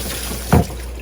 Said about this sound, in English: I wash the net